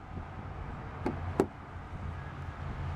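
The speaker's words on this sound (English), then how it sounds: "Just listen when you close the door." The door of a 2015 Hyundai Sonata SE shuts with a soft, solid thunk, two close dull impacts in a quiet setting.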